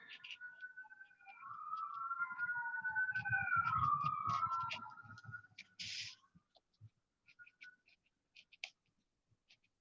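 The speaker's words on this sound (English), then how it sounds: "Uh-oh, ambulance." An ambulance siren passes, its wailing tone sweeping up and down at a moderate distance over low rumble for several seconds, then fading, followed by scattered faint clicks.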